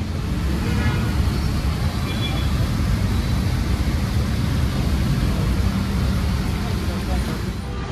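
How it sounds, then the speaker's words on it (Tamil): Busy morning road traffic at a city junction, a dense, loud, continuous roar of passing vehicles that fills the whole scene. "பின்னாடி பாருங்கள் கஜகன்னு இருக்க ரோடு எல்லாம் செம்ம டிராஃபிக் காலையே"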